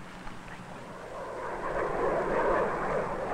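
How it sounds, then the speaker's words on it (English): A jet plane passes high overhead with a broad rushing roar that slowly swells louder, distant and steady, with no voices. "Jet plane flies a lot higher and faster than Quacker."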